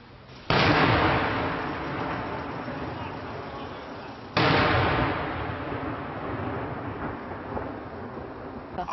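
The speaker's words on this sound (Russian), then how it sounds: "под непрекращающийся грохот выстрелов и взрывов" Gunfire and explosions in a city under attack: two sudden, loud blasts roughly four seconds apart, each followed by a long rumbling decay over continuous dense noise.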